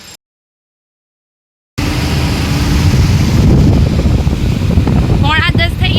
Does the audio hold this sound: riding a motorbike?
yes